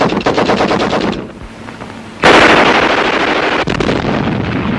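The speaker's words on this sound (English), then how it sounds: "Machine gun bullets search for any seeking escape." Machine gun fire on a jungle front line in the Kokoda campaign, rapid bursts of automatic fire, loud and close, with a brief lull before a harsh, dense burst of gunfire resumes.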